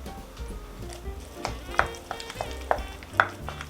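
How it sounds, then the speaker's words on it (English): Onions being stirred into a cold party dip mixture in a bowl, with soft scraping and mixing sounds in short, repeated strokes, several sharper clicks of the utensil, close and moderately quiet, no talk. "Mix it up a little bit."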